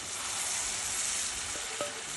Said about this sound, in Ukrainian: Ось така краса смажиться.